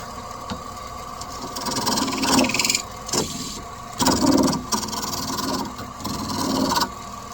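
A wooden mallet, turned from a bowling pin, spins on a lathe while being sanded, giving a steady motor whir with rasping scrubbing bursts that swell and fade in several passes.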